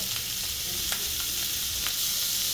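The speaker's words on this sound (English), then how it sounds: "listen to that sizzle" Oil sizzles and crackles steadily in a hot pan, a bright continuous hiss with a few sharper pops, close and fairly loud.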